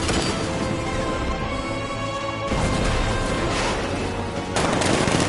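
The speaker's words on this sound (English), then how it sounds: "60mm cannon operational." Video game combat in Batman: Arkham Knight rages with a tank's 60mm cannon and rapid heavy gunfire and booming blasts, loud and continuous, swelling in intensity at two points.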